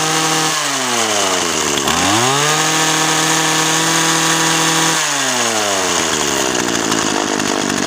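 Weed Eater GHT225 gas hedge trimmer engine running close and loud, a buzzing two-stroke drone that drops to a slow idle, revs up in a sweep, settles, then falls and rises again.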